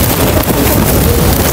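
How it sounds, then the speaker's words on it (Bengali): Strong wind on Geoje Island in South Korea during rainy weather buffets the microphone with a loud, continuous roar across the whole short moment. "ওরে বাতাস, প্রচন্ড বাতাস, দেখেন অবস্থাটা কি বাতাস দেখেন"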